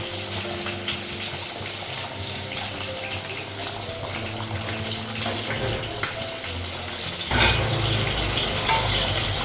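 Fish hits a pan of hot oil and bursts into loud sizzling and spitting frying noise after a stretch of steady hissing cooking sounds in a home kitchen.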